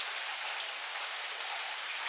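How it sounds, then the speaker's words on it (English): Heavy rain pours steadily outside in Meguro, Tokyo, as an even, dense hiss with no voices. "It's raining very hard."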